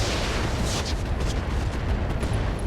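A turret being destroyed in the mech combat game RogueTech, a dense, continuous roar of explosions and weapon fire with bursts layered over heavy rumbling.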